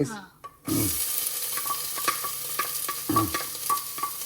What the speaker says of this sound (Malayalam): ഓക്കെ, ഉള്ളി ഇടാൻ സമയമായി.